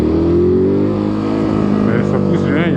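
A Ducati Monster 937 twin-cylinder motorcycle accelerating hard, its loud, close engine note climbing steadily in pitch with rising harmonics, while a rider talks over it.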